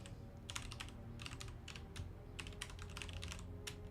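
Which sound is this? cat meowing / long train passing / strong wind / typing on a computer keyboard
typing on a computer keyboard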